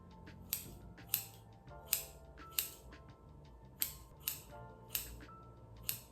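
Scissors snipping through thin, fine hair while feathering a blunt cut, a steady series of about ten close, crisp metallic snips at a regular pace, no talking.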